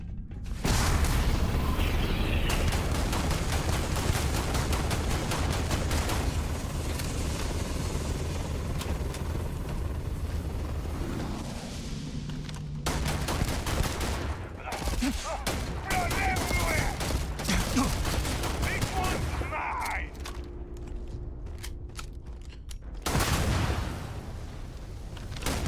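Gunfire in the space game Starfield: loud bursts of automatic shots and booms come in long volleys, broken by short mechanical clicks and quieter gaps, with a voice talking over parts of it.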